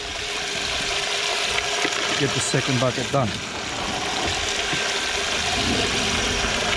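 Water runs steadily from a hose or tap while clearing sludge with buckets and a shovel, a constant broadband rush throughout, with people talking briefly over it.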